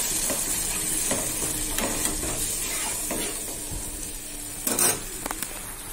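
Water poured onto fried spice paste in a pan sets off a loud, steady sizzle, with stirring scrapes running through it and a sharper clatter of the utensil near the end.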